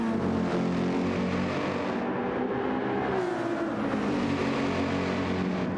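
A Volkswagen Beetle's engine drones steadily in a racing video game at Kyoto Driving Park, a continuous revving whir with shifting pitch and other cars' engines blended around it.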